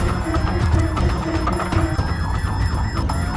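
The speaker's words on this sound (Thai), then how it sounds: "สัญญาณเตือนภัยดัง" Alarm siren blaring in the Roblox game Field Trip Z, a loud, continuous wailing tone that holds steady throughout with no talk over it.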